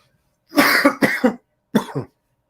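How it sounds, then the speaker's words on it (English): Three harsh coughs close to the microphone, two in quick succession followed by a brief pause and a third, with silence around them. "I didn't want to be coughing all on camera"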